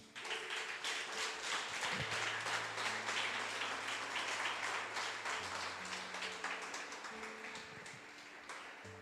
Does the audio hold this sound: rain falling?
no